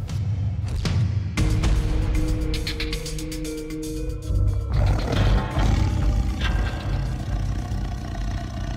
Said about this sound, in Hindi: 1 महीने से घूम रहा है बाघ।